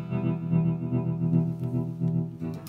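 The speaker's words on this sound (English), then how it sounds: "So I'm putting two tremolos together" Electric guitar sustaining a held chord through two stacked Chase Bliss tremolo pedals, the volume pulsing in a steady wavering rhythm, close and moderately loud with no talking.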